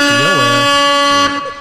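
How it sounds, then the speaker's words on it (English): An air horn sound effect blares loud and close on a podcast in one sustained blast with a wavering pitch bend, then cuts off, with no talk over it. "Play the air horns for that."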